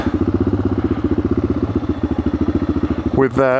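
A Yamaha XT600 single-cylinder dual-sport motorcycle idles close by with a steady, lumpy thump, then briefly revs up near the end.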